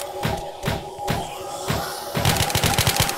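Gunfire in the Roblox game Skibidi Toilet War: rapid bursts of shots in a steady stream over game music and background noise, growing into faster automatic fire toward the end.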